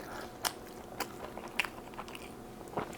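Crunchy bites and chewing while eating a tortilla alongside wings, fries and a cheeseburger, several soft crisp crunches a half second to a second apart, close but quiet.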